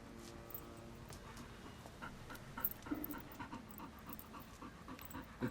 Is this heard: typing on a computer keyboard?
no